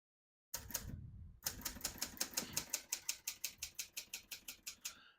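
Crisp mechanical keystrokes from a vintage Hermes 3000 portable typewriter: a short burst, a pause, then a steady run of about twenty evenly spaced clacks, close and clear with no talking.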